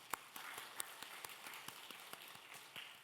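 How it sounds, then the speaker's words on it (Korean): A church congregation claps together, a brief scattered round of applause with uneven hand claps, fairly faint and a little distant, with no one speaking over it. "자, 박수 한번 해주실래요?"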